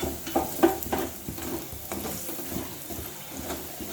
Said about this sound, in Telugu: అలా కొంచెం చికెన్ మసాలా, కొంచెం ధనియాల పొడి వేసి బాగా ఫ్రై చేయాలండి.